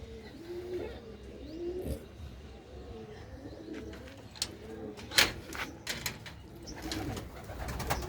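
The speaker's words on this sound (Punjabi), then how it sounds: "ਤੇ ਇਹ ਨੇ ਆਪਣੇ ਕੁਝ ਕਬੂਤਰ" Pigeons in a village loft coo in low repeated phrases through the whole stretch, with a few sharp chirps and clicks near the middle and end.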